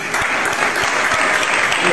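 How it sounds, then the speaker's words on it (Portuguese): A church congregation claps together, a dense steady patter of many hands lasting throughout, fairly close and loud, with faint voices mixed under the applause. "Você pode aplaudir ao Senhor?"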